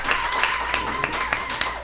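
A small live crowd at a pizza restaurant event gives scattered, uneven hand claps at close range, mixed with a voice talking over them.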